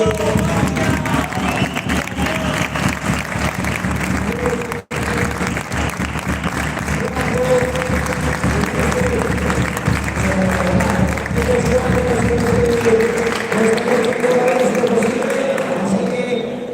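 Sustained crowd applause for the organisers at a wheelchair padel tournament, steady and loud for over fifteen seconds, with a brief break early on and voices mixed in.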